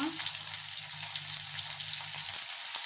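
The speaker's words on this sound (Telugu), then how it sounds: "ఉల్లిపాయ ఫ్రై అవ్వాలి" Onion frying in oil that already holds mustard seeds, cumin and a dried red chilli for a beans fry, a continuous near sizzle and crackle with a faint low hum fading out near the end.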